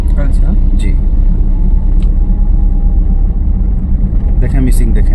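A car engine in a driving lesson, with the accelerator held down, gives a steady low rumble throughout, running under near-constant talk inside the cabin.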